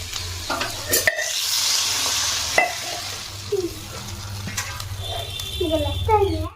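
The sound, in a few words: curry simmering in a pan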